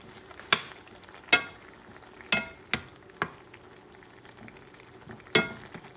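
Squid with capers cooking in a hot pan over medium-high heat, a soft steady sizzle broken by about six sharp clanks and scrapes of a utensil against the pan, close and without talk.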